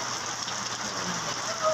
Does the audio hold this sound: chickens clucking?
no